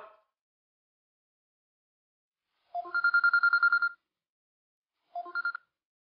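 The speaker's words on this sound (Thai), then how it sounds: "ไปรับโทรศัพท์กันเลยวะ" A telephone rings twice in clear trilling bursts, the first about a second long and the second shorter, with silence around them and no talk.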